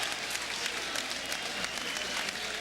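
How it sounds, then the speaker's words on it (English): Fight fans at the Blue Horizon in Philadelphia roar and clap during a boxing match, a dense, continuous crowd noise heard at a distance, fairly faint but steady. "You can hear that crowd."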